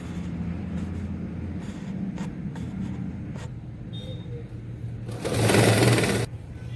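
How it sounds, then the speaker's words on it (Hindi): Sewing machine stitching along a blouse neckline, a steady continuous motorized whir running throughout, briefly louder and brighter near the end before easing off. "यहाँ पे मैं सिलाई लूंगी"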